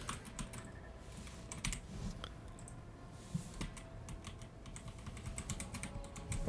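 Rapid computer keyboard typing with irregular bursts of key clicks, close and steady over a faint room hum, during a Warhammer 40K: Rogue Trader game session, with no talk.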